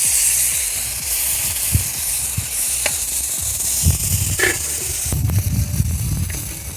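Broth poured into a hot cauldron of frying solyanka base over an open fire, giving a steady sizzle and hiss with occasional stirring clinks and knocks, close and continuous, with no talking.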